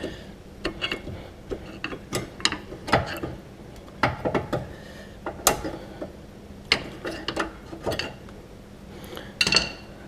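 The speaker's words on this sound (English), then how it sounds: "use the screwdriver and pry them out equally on each side" Screwdriver prying worn brake shoes out of a Saturn Vue drum brake, a series of sharp metallic clicks, scrapes and clanks in irregular bursts, close and distinct against a quiet background.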